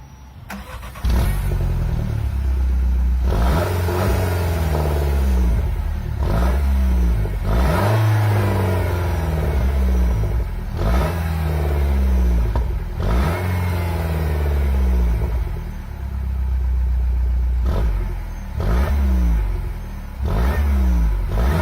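Peugeot 208 GTI with standard exhaust on a cold start, recorded from directly behind the car: repeated loud revs rising and falling in a regular pattern over a raised idle, close and with no talking.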